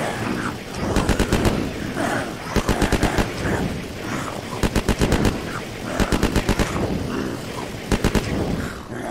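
Rapid bursts of Uzi fire from the survival game Unturned, several clusters of fast automatic shots repeating every couple of seconds over a busy game background.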